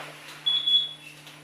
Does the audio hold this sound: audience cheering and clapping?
no